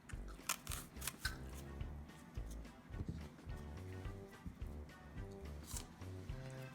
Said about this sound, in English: I'm gonna have to edit out all this crunching sound